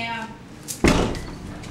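A bathroom door knocked open, one sharp thud and bang partway through, preceded by a voice and followed by fading room noise.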